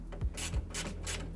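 A socket wrench tightens a bolt on a 360 roll cage mount, giving a quiet, rapid run of ratcheting clicks in short bursts, close up.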